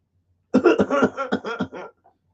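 A short burst of rough, raspy coughing, several quick hacks in a row, close and fairly loud, followed by silence.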